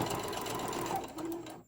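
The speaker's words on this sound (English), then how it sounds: "I'm going to just sew them together" A sewing machine stitching fabric carrot treats together, running in a steady continuous whir for nearly two seconds before cutting off.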